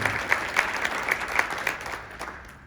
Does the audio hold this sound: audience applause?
yes